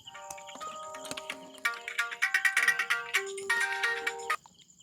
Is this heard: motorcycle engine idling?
no